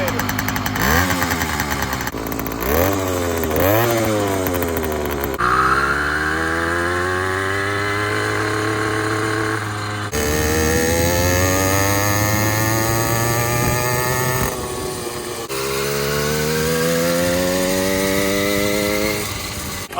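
A Razor 2-stroke dirtbike engine fitted with a quieter muffler, running loud and close with repeated revving that rises and falls in pitch, a sustained buzzing drone throughout.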